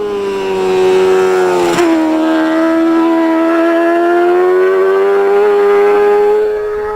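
A SuperSport racing motorcycle at the Manx Grand Prix screams past close by, its high engine tone dipping sharply as it passes and then holding a loud, steady wail.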